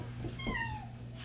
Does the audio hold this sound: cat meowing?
yes